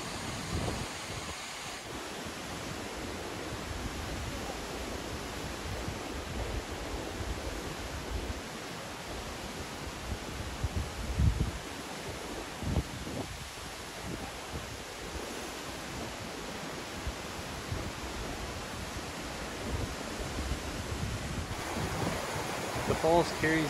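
Steady roar of Cascade Falls in Colorado, snowmelt pouring down a series of seven flumes, heard as a continuous broadband rush of falling water with some wind buffeting, unbroken for the whole stretch.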